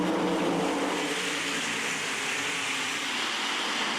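Sprint cars roar around the I-96 Speedway dirt oval during an ASCS feature restart, a dense, steady wall of loud engine noise holding nearly constant throughout with no distinct passes standing out and no voices.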